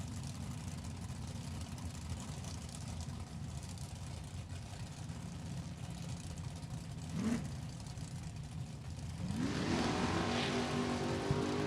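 First-generation Camaro and a 1994 Camaro at a drag racing event, engines rumbling at the starting line as a steady low drone, swelling into a louder rising roar near the end.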